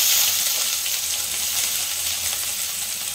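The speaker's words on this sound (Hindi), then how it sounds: "आमे ऐड करबा काटी रखथिबा पियाज।" Chopped onions hit hot oil in a pan and sizzle steadily, a close, dense hiss of frying that holds even throughout, with no voices.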